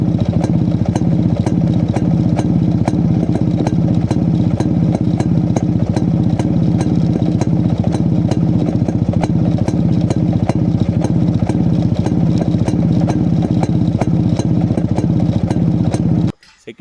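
A Yezdi CL-2 motorcycle runs close by with a loud, steady exhaust thump and a rapid even beat, holding for about sixteen seconds before it cuts off abruptly.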